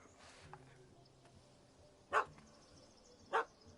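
A puppy in a video game gives two sharp, separate barks spaced about a second apart, clear against a quiet background with faint game ambience, no talk.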